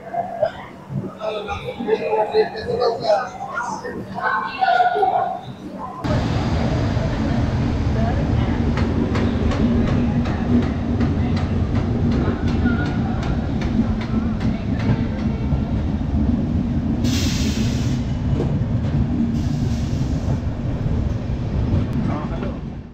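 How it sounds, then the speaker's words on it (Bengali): Bengaluru–Howrah Duronto Express 12246 pulls out of Bengaluru SMVT station at low speed: after a few seconds of talk, a steady loud rail rumble sets in with a continuous run of wheel clicks over the track joints. "ট্রেন এসএমভিটি বেঙ্গালুরু স্টেশন ছেড়ে এগিয়ে চলল।"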